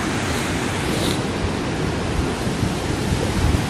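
Water rushes steadily through a small canal swollen after heavy rains, a dense, continuous broadband roar close by, with no talking.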